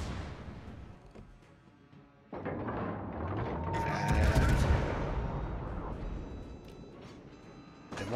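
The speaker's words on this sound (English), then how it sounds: "Des Moines fires fast" Heavy naval guns on a Des Moines cruiser fire in a video game, a dense rumbling barrage of booms and blasts building toward the middle and holding loud, with some faint game chatter mixed in.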